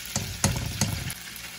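Potatoes frying in oil, a close steady sizzle broken by several stirring scrapes in quick succession, no talking.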